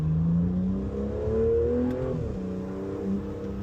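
Loud exhaust note from a 2025 Aston Martin Vanquish accelerating, the engine pitch climbing through the gears, then dropping at a shift around two seconds before settling and pulling on steadily.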